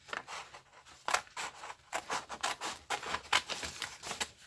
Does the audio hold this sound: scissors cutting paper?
yes